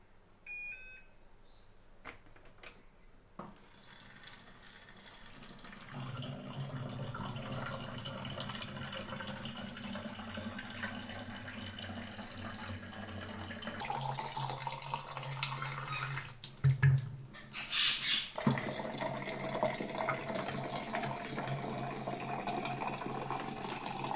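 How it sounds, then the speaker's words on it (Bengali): Tap water running into bottles at a home kitchen sink, a steady rushing flow that starts after a few seconds, changes pitch as the bottles fill, with a brief clatter midway and no voices. "আমি একটু এখন জল ভরে নেব আগে বোতলে"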